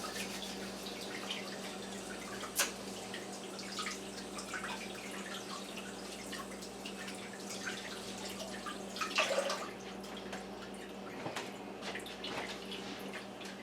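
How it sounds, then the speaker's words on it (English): Tap water runs steadily into a kitchen sink for hand washing before baking an apple pie, a continuous hiss with a few drips and small splashes throughout and no talk. "Wash our hands."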